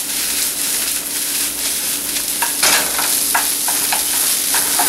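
Red and white quinoa sauteing in a hot pan, a bright continuous sizzle broken by rhythmic stirring scrapes and clatters, close and fairly loud.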